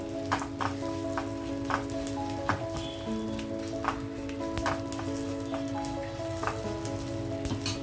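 Garlic with cumin, mustard seeds and dried red chilies fries in hot oil: a dense, close crackling sizzle with sharp pops at irregular intervals over a steady background hum.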